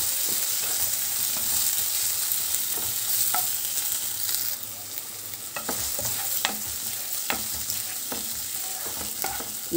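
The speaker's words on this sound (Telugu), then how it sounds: "మసాలా అడుగంటకుండా వేయించుకోవాలి." Masala for egg curry frying over a low stove flame, a steady close sizzle with a spoon scraping and stirring around the pan at irregular intervals, no voices.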